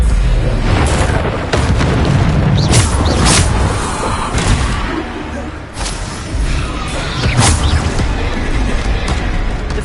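Repeated Bombarda explosion spells in a Harry Potter video game, loud booming blasts and crackling bursts in dense succession over rumbling combat noise, with spoken spell incantations mixed in.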